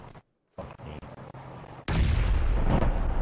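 Grenade blasts in PlayerUnknown's Battlegrounds on Xbox One: a short silence and faint shuffling give way to a sudden loud explosion that rumbles and decays over a second or more.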